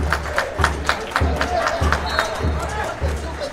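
Stadium crowd at a Guaraní A.F. versus Colonial football match applauding a substituted player: a steady roar with rhythmic low pounding pulses, like drumming in the stands, while a voice talks over it.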